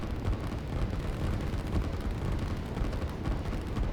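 Rocket strike and explosions in the real-time strategy game Line War, a dense continuous rumble of booming blasts and crackling fire at steady loudness throughout, with no voices.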